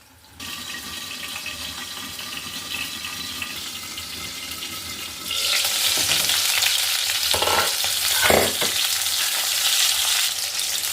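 Pointed gourds (potol) frying in oil in a pan: a steady sizzle that swells into louder, busier crackling partway through, with a couple of scraping stirs near the end and nobody talking.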